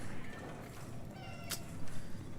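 A cat meows indoors, a short voiced call mixed into steady background noise, with a brief sharp click near the middle.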